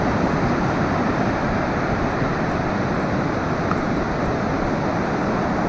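Ocean surf rolling in at Folly Beach, a continuous broadband wash of breaking waves with wind rumbling across the microphone, steady and loud throughout with no voices.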